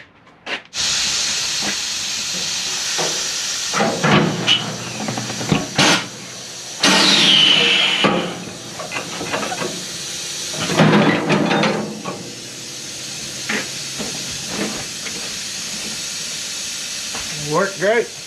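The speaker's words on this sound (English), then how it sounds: "So the machine leaks, so I've got to cut the air on and off quite a bit" Air hisses from a leaking tire machine in bursts as the supply is cut on and off, loud close sprays separated by short quiet gaps, with someone talking between them.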